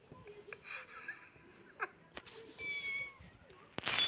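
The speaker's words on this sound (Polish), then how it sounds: "Ale słodki mały kotek w kubeczku." A small kitten sitting in a cup gives a brief, faint meow near the middle, with some quiet voices and rustling around it.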